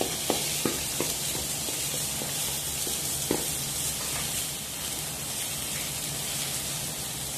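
Garlic, onion, tomato and pepper frying in olive oil give a steady close sizzle, broken by a few light stirring clicks early on.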